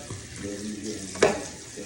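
Water is poured into a pot of spiced collard greens with chicken, a soft splashing and gurgling wash with a brief sharper splash midway, fairly quiet and without talk.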